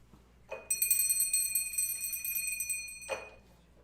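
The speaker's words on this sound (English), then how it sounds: "Let me go ahead and ring the bell." A single bright church bell rings out clearly during a service, its tone sustaining and slowly fading for a few seconds before a soft knock ends it.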